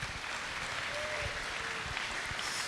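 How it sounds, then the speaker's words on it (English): Audience at a Comic Con presentation clapping in a sustained, dense burst of applause, steady and fairly close, with a faint voice briefly underneath. "Can I get a big round of applause"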